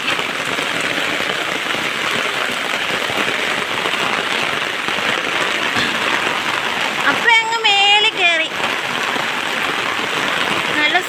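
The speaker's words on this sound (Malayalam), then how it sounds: "സൂപ്പർ മഴയാ" Heavy rain pours down on a village path, with water running along the way. It is a dense, steady, close hiss throughout, broken briefly by a short burst of high tonal chirping near the middle.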